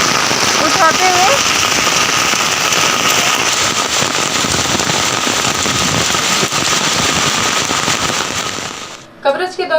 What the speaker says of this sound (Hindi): अचानक ही बारिश हुई, मौसम सुहाना हुआ